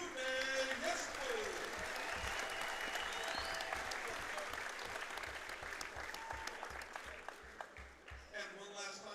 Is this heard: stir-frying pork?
no